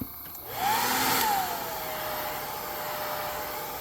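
A heat gun on its low setting blows steadily over airbrushed paint on a 7-inch FWL Shad soft plastic lure, a close, even whirring rush that swells briefly near the start and then holds, with no voices.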